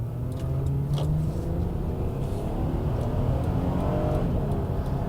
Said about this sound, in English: hopefully we'll be able to get one more acceleration run out